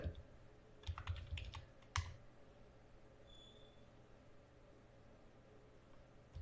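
Computer keyboard typing while entering text in Microsoft Word, a quick burst of key clicks followed by a single sharp keystroke, then quiet room noise.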